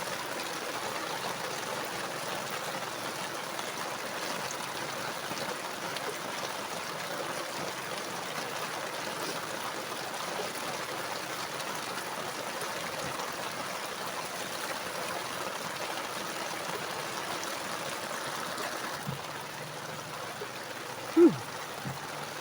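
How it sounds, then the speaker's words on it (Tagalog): Heavy rain pours steadily near a mangrove river, a continuous rushing wash of water with a brief splash near the end and no talking. "Grabe yung ulan."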